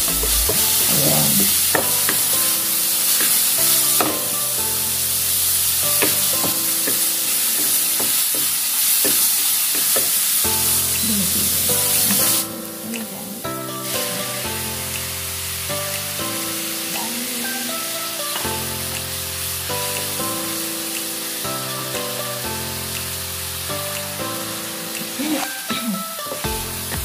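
Tomatoes sizzle and are stirred in a frying pan while they cook down into a sauce. Spoon scrapes and taps sound over a steady sizzle, with music playing underneath throughout and a brief drop partway through.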